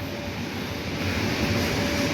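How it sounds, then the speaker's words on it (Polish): A Polish N57 passenger train rolls past at Tarnów with a steady, broad rumbling roar, close and loud throughout. "Jedyny pociąg N57 czynny z zielonymi darmami."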